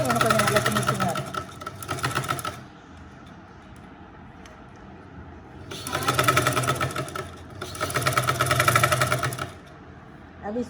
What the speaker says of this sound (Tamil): இப்போ இதை ரவுண்டாக கழுத்தை சுற்றி ஒரு தையல் தைச்சி முடிச்சாச்சு.